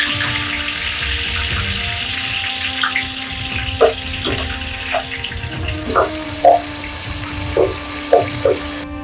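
Oil and tomatoes fry in a pan for aloo tomato curry, giving a steady hiss with scattered bubbling pops and spatters close by.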